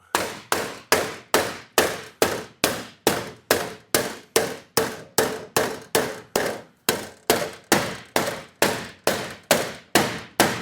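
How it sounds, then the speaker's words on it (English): A 1941 Mercury steel floor pan being hammered over a steel form, loud close metallic blows landing in a steady, even rhythm of about two per second, ringing sharply with no voices. "It's really nice having this piece to hammer on like this and use as the form"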